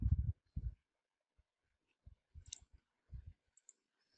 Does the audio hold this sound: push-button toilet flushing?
no